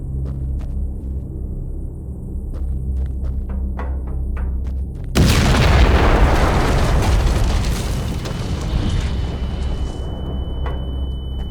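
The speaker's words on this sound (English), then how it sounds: "That explosion must have attracted attention." Loud, close explosion in the horror video game The Land of Pain: a sudden massive boom erupts over a low ambient drone and decays into a long rumbling roar, leaving a faint high ringing tone afterward.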